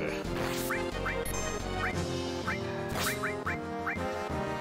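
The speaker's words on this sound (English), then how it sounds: "Okay, that is a big bird." A giant bird monster cries out in Final Fantasy 7, a series of short squawking, quacking calls repeated over an ongoing game music bed.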